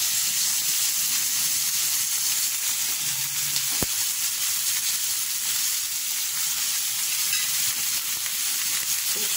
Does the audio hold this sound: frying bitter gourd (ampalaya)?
yes